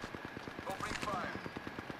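Gunfire in the battle royale game Apex Legends, a steady rapid string of automatic shots, fairly quiet and distant, with faint voices and chirpy effects mixed in.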